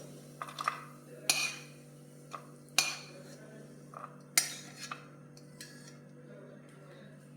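A metal spatula scrapes and taps against a pan and plate as roasted moong dal is moved out, giving sharp, irregular clinks and scrapes over a quiet background.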